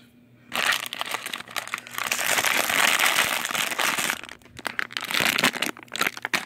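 A crinkly plastic blind pack holding an Overwatch figure gets worked open, giving loud, close, continuous crumpling and crackling that pauses briefly and then resumes, with no voices.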